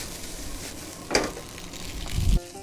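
Bacon and mushrooms are stirred together in a sizzling pan for a white wine carbonara sauce, with a soft steady sizzle, a sharp utensil scrape near the middle and a louder stirring clatter toward the end.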